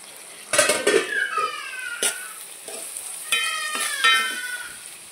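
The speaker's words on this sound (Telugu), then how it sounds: "ఆనియన్స్ బాగా వేగాయండి. ఇప్పుడు టమాటా ముక్కలు వేసుకుంటున్నాను." Tomato pieces tumble onto well-fried onions in a pan for mutton curry, then get stirred with a spatula: loud scraping and clattering strokes over a continuous close sizzle.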